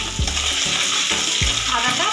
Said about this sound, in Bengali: আদাটা ভাজা ভাজা মতন হয়ে গেছে